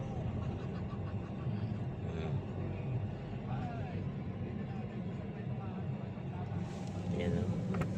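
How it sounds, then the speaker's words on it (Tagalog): Road traffic in Muñoz, Philippines: a steady, close engine rumble and drone of vehicles moving slowly through congestion, with voices talking over it. "Traffic nga na."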